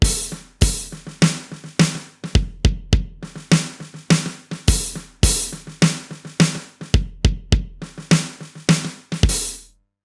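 Drum kit playing a groove with ghost notes on the snare, a steady pattern of sharp kick and snare hits and soft in-between strokes over hi-hat, close and loud, no voices.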